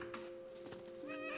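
A cat meows in the video game What Remains of Edith Finch, giving a steady tonal cry that holds for over a second against a soft, busy game background.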